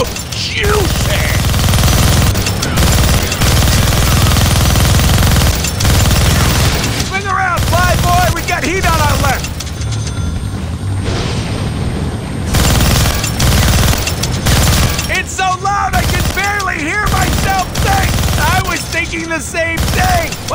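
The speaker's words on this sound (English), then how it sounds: "Gonna need both hands to shoot that minigun." A helicopter-mounted minigun fires in the Deadpool video game, with loud sustained bursts of rapid gunfire and heavy rumble across the scene, and voices talking over it at times.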